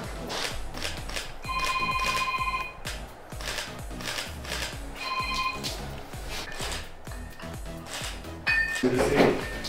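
A telephone rings in repeated short bursts over a busy indoor background of clattering, knocks and clinks, fairly close and moderately loud, with people talking.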